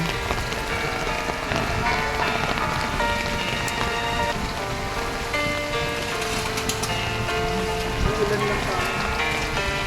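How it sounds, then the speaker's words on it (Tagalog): Steady rain pours at Igorot Stone Kingdom in Baguio, a dense, unbroken patter of drops hitting surfaces close by, loud and continuous with no pauses. "Naulan ang punta namin dito."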